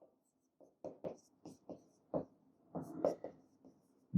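A pen scratching across paper while writing out accounting entries, a series of short strokes in uneven rhythm, close and quiet against near silence.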